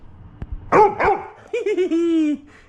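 A pet dog barks on command in a home, giving a few short yips and barks, then a longer drawn-out whining howl, close to the mic with a voice speaking briefly around it.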